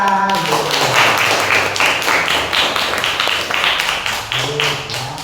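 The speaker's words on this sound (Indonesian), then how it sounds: "Beri aplaus pada teman kita" A classroom group claps for a student after a presentation on Isra Mi'raj, producing steady, dense applause for several seconds, with voices heard briefly at the start and end.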